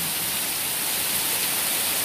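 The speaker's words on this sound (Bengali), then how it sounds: "অনেক জোরে জোরে বৃষ্টি পড়ছে। বৃষ্টির রিমঝিম শব্দ খুব ভালো লাগছে।" Heavy morning rain in Chapainawabganj pouring steadily, a dense, even hiss of large drops with no breaks or voices.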